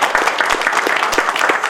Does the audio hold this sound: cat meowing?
no